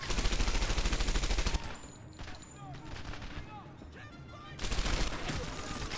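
Gunfire from the World War II shooter game Medal of Honor Airborne: rapid automatic bursts open and close the passage, with scattered shots and battle effects in the quieter middle stretch.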